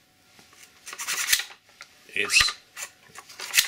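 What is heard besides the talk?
upper sand tool moved back and forth on a rifle upper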